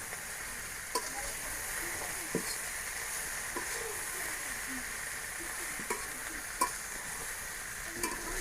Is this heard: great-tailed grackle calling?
no